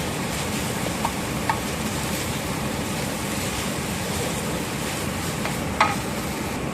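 Onion, garlic and ginger paste frying and being stirred in a pan for chicken masala fry, a steady dense sizzle with occasional sharp clicks of a utensil against the pan.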